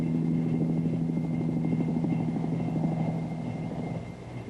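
A steady mechanical drone with a low, pulsing rumble, like a helicopter's rotor beating nearby, fading slightly at the end.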